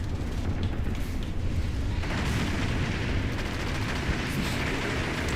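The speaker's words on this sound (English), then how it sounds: "That's a grenade." A grenade explosion in the video game Halo: Reach, a dense, loud roar of blast and combat noise that stays thick and continuous throughout.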